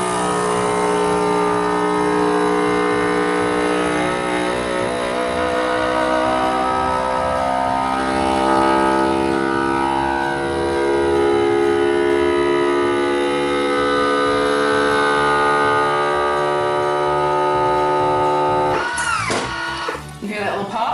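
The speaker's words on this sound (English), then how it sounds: "it allows you to vacuum seal jars" A FoodSaver vacuum sealer with a jar accessory pumps air from a jar of dehydrated strawberries, giving a steady, loud motor drone for about nineteen seconds before it cuts off with a brief clatter.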